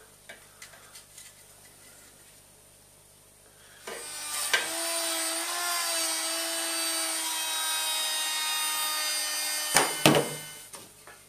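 A power tool plunges into wood to cut a rebate, with a steady loud whining cut lasting several seconds after quieter handling clicks, then stopping with a few knocks.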